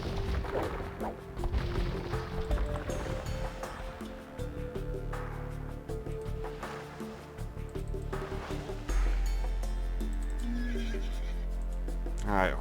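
Horses neigh and whinny amid a busy Age of Empires 2 game soundtrack with music, thuds and clattering hooves, the calls standing out loudly several times.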